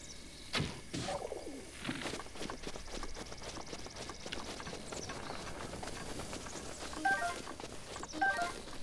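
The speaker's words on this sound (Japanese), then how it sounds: "あ、めっちゃいるじゃん、鳥。" Birds in the open-world game Zelda: Breath of the Wild chirp and coo amid clopping hoofbeats and light ambient wind, with the calls faint and intermittent and no speech.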